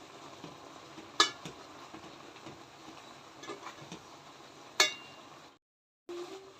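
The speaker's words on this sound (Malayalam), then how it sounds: "അപ്പോൾ ഇനി ഇത് നന്നായിട്ടൊന്ന് മിക്സ് ചെയ്ത് കൊടുക്കാം നമുക്ക്" A taro stem and root curry, just seasoned with pepper powder, is stirred in a pot: a faint, low scraping and shuffling throughout, with two sharp clinks of the spoon against the vessel and a brief silent gap near the end.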